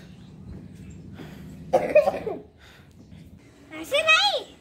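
A couple of short coughs burst out between quiet stretches, with faint voices murmuring in the background.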